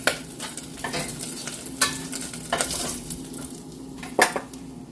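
Cut brinjal is fried in hot oil with a soft, steady sizzle. A utensil scrapes and clinks against the pan in several sharp stirring strokes, close by and with no talking.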